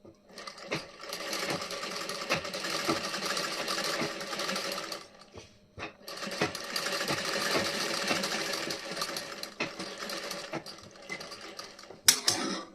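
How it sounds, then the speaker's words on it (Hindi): A sewing machine stitches the back neck design of a blouse, a rapid, steady mechanical chatter running in two long bursts separated by a brief pause, close and clear with no talk over it. "ये हमारी स्टिचिंग हो चुकी है।"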